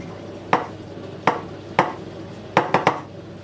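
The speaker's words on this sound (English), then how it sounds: "with a knife I'm gently going to trim off these edges" A knife trims the pastry edges of a turkey and ham pie, making six sharp, close taps and scrapes against the dish: three spaced apart, then a quick cluster of three near the end.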